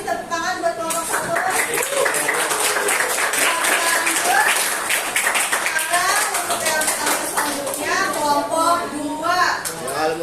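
Classroom applause for the first student group in a chemistry lesson, dense sustained clapping from many hands lasting the whole stretch, with children's voices chattering over it.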